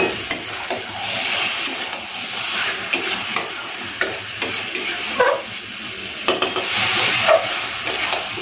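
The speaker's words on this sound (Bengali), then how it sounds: "একদম জল দেবো না, ঢাকা দিয়ে দিয়ে চিকেনটাকে ভালো করে কষবো।" Chicken sautéed dry in a pan with no water, a dense close sizzle with frequent scraping and tapping of a spatula as it is stirred, fairly loud and continuous.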